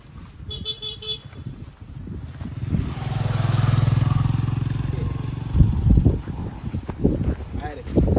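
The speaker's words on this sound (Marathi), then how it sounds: "बाईक आली" A motorcycle engine swells loudly for a few seconds, passing close by, with people talking around it before and after.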